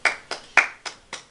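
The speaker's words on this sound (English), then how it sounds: "I'll give you a hand clap on that" Five sharp hand claps in a steady, slightly uneven rhythm, close and fairly loud, each with a quick decay and no talking.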